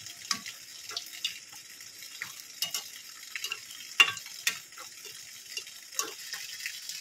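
Potato rose-shaped snacks frying in hot oil, with oil spooned over them; a soft, faint bubbling with scattered light clinks and scrapes, close by and without talk.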